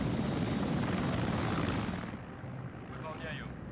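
An Mi-24 helicopter in the video game Arma 3 gives off a loud, dense rotor and engine roar that fades partway through, followed by a quieter rumble with a brief voice.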